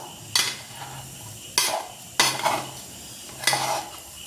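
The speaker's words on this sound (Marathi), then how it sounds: "हे झालं आपलं दाण्याचं कूट, आता टाकून घेऊ साबुदाण्यात। आता थोडंसं याला एकसारखं करून घेऊ।" Peanut powder being stirred into sabudana in a pan: four distinct scraping strokes of a spoon against the pan, close and clear with quiet gaps between, no talking.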